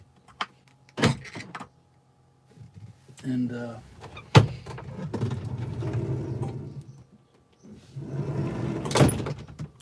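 A van's sliding door rolls open with a short rumbling slide and a sharp clunk, then more rattling and handling noises outdoors on a chilly morning, with brief speech and faint birds nearby.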